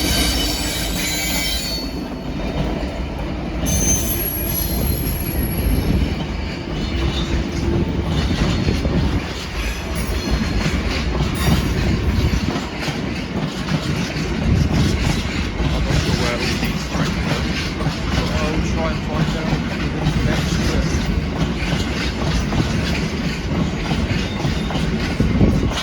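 A Freightliner Class 66 diesel freight train rolling past at trackside at Acton Mainline, with a loud, continuous rumble of wagons, squealing wheels and clattering rail joints, and a voice speaking over it early on.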